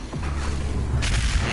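An explosion in the video game DOOM Eternal, a loud, rumbling boom with a sharp noisy burst about a second in, heard alone without talking.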